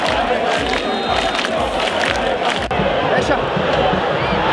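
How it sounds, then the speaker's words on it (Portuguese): Flamengo supporters in a packed stadium chant loudly to taunt São Paulo after a goal in a Copa do Brasil match, a dense rhythmic roar of massed voices with pounding beats, continuous and close. "a torcida agora provoca o São Paulo"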